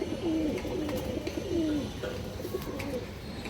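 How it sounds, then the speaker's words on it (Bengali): A big-headed, red-eyed pigeon coos close by in a few repeated low, rolling phrases over faint background noise. "এই দেখেন লাল গিয়ারের কবুতরটা দর্শক"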